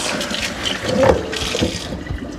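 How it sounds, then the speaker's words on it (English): Tap water runs into a kitchen sink to rinse scrubbed potatoes for hash browns, a close, loud rushing splash that swells briefly in the middle and then settles into a steady flow. "I'll just do a big rinse all at once"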